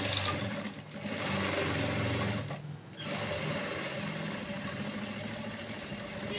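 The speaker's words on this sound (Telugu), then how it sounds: "మనం దీన్ని కావాల్సుకుంటే ఇటువైపు నుంచి కూడా కుట్టు వేసుకోవచ్చు." A sewing machine runs close up while stitching a boat-neck blouse, a continuous, fast mechanical whir with two brief dips where the stitching slows or pauses.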